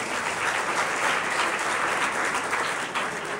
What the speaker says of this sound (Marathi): सरांसाठी प्लीज एकदा टाळ्या वाजवा.